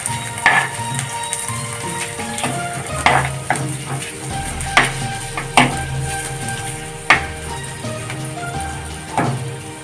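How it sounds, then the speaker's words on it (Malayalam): Chopped ginger and garlic sauté in hot coconut oil with a steady close sizzle, broken by sharp scrapes and clinks of a spoon stirring the pan every second or so. "ഇതിലേക്ക് നമുക്ക് അരിഞ്ഞു വെച്ചിരിക്കുന്ന ഇഞ്ചിയും വെളുത്തുള്ളിയും ചേർത്ത് കൊടുക്കാം. ഇനി ഇത് ചെറുതായിട്ടൊന്ന് വഴറ്റിയെടുക്കാം."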